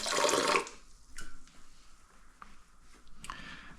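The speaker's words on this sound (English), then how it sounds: "Wash this fork." A fork is washed under a running kitchen tap: a short, fairly loud gush of water, then quieter scattered clinks and drips as the flow stops.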